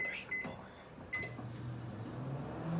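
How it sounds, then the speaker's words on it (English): A microwave oven hums steadily with a low drone in a home kitchen while vegan food cooks. A few faint beeps and clicks come near the start, and no one talks. "we're gonna cook it in the microwave."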